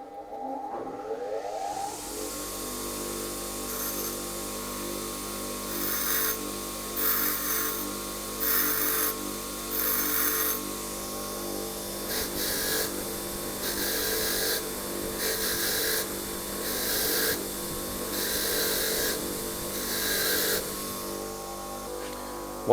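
A bench grinder touching up a worn bolt thread while a motorcycle chain is being replaced: a steady motor hum with repeated rhythmic bursts of grinding, close and moderately loud, with no speech.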